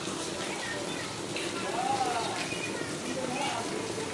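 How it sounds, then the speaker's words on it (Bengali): Heavy rain pours down steadily, a dense continuous hiss of drops on surfaces near plants, with faint voices or sounds occasionally rising above the downpour. "কত বৃষ্টি হচ্ছে"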